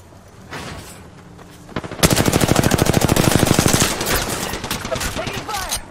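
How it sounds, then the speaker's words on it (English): Rapid automatic gunfire in the Apex Legends video game, a fast sustained burst of shots starting sharply at about two seconds and continuing in a loud rattling stream, with fainter game sounds before it. "Taking fire!"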